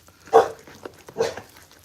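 An older dog, upset and wanting to go outside to play, lets out two sharp close barks about a second apart, with soft whining sounds between them.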